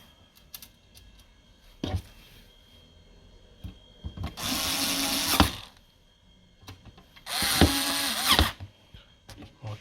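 Two bursts of a small electric screwdriver driving hard drive screws into a Hilook DVR, each whirring for about a second, separated by quiet clicks and handling of parts.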